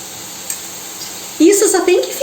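Sardine and egg stirred into a sizzling pie filling in a frying pan, giving a sudden loud burst of frying crackle and scraping that keeps going after a quiet start.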